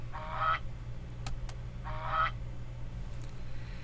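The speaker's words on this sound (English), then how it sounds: "I got to do the goose honk" Goose honk sound effect from the SoundzAbounds library, two loud nasal honks spaced about a second and a half apart over a low steady hum, with no voice.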